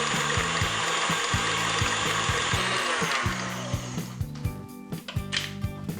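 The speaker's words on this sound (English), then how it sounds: "Let's turn on the mixer and mix the butter." An electric mixer beats butter and powdered sugar with a steady, loud mechanical whir and rhythmic ratcheting clatter up close, then slows and turns more uneven toward the end.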